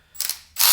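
Snap-on cordless ratchet whirring in two short close bursts, a brief spin then a louder sustained run, loud and alone.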